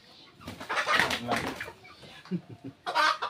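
Small chickens cluck and squawk in short bursts, close and fairly loud, with uneven pauses between calls.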